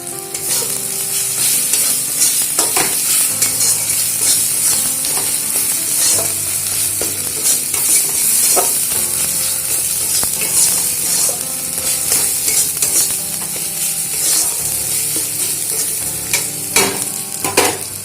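Mixture of spices, salt and turmeric being stirred and fried in a pan for a vegetarian banana-flower dish with chickpeas and peanuts, a steady close sizzle with scraping stir strokes running throughout, no voices.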